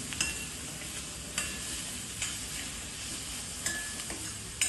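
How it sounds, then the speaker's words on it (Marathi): Onion and green chilli fry with salt in a pan, giving a steady soft sizzle with a few sharp utensil scrapes and clicks spaced through it, fairly quiet and close. "मीठ टाकल्याने कांदा लवकर भाजला जातो, म्हणून कांदा आणि मिरचीमध्येच मीठ टाकायचं आहे"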